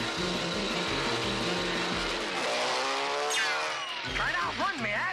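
A cartoon six-motor dragster races with a loud, continuous roaring engine drone, then a high squealing sweep and wobbling, warbling motor tones near the end.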